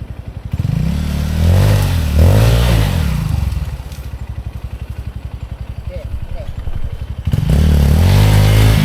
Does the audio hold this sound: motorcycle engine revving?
yes